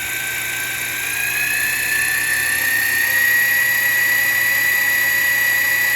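An electric drill spins the oil pump of a Ford 7.5L engine through the distributor drive, giving a steady, loud high-pitched whine that holds constant throughout with no talk.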